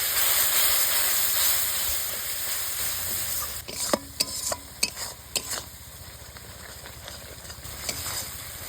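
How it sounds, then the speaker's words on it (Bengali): Spices with chili and turmeric powder fry in a pan with a steady close hiss and sizzle, then a run of sharp metallic taps and scrapes from a spoon stirring the masala. "এবার মশলাগুলো ভালোভাবে কষিয়ে নিব।"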